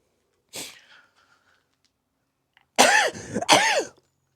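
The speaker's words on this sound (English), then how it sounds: "Sorry, I've got a sneeze brewing." A short sniffly breath, then after a pause two loud, forceful sneezes in quick succession, close up.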